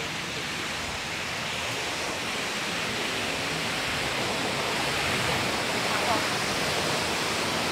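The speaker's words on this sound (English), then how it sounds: "we are at world famous Duns River Falls" Dunn's River Falls in Jamaica roars as a constant, loud broadband rush of cascading water, steady throughout with no breaks.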